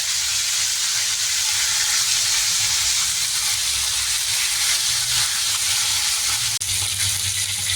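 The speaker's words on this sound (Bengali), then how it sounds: "আর এক পিঠও আমি এইভাবে উল্টে ভেজে নেব" Oil sizzles steadily as bhetki fish fries in a pan, a close, continuous crackling hiss that barely changes throughout.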